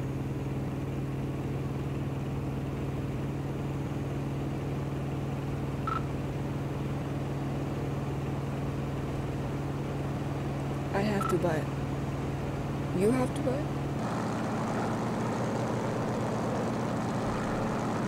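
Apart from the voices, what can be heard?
A-1 Skyraider propeller plane taking off, video game Gunship III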